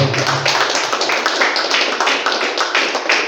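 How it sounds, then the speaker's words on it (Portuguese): A church congregation at a worship service clapping in praise, a loud, dense, steady burst of many hands indoors for a few seconds, with a faint voice briefly present near the start. "Dê uma linda salva de palmas ao Senhor"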